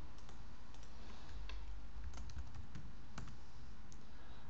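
Quiet typing on a computer keyboard, a sparse run of soft key clicks at an irregular pace over a faint steady hum, with no talking.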